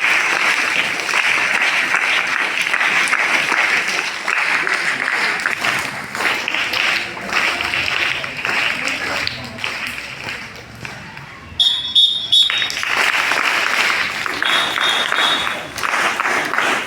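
Audience clapping at a school Independence Day celebration, steady sustained applause from a crowd throughout, with a brief dip before resuming loudly near the end.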